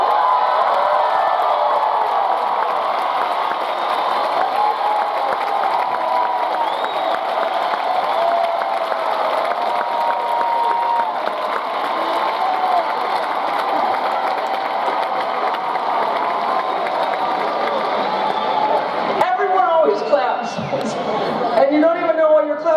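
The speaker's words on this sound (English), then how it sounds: "you don't even know why you're clapping" Concert audience at Madison Square Garden in New York claps and cheers steadily, a dense, sustained wash of applause filling the arena, with a voice speaking briefly near the end.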